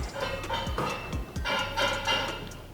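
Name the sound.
grinding noise from Echelon stair climber in use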